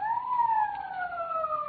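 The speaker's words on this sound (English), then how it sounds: "Police siren." A police siren sounds in a radio drama, a brief wailing tone sliding slowly downward. It is heard clearly and alone, with no talking.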